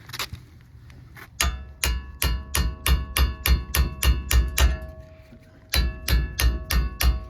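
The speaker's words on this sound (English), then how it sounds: "Hit the hammer." Steel hammer blows on the rear brake rotor of a 2019 Ford Fusion Hybrid, a fast steady run of loud close metallic clanks, a short pause, then another quick series of ringing strikes.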